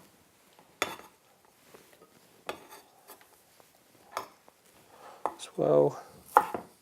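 A knife cuts and dices avocado on a board, giving a handful of sharp, separate chops spaced irregularly and close by, with a brief spoken phrase among them.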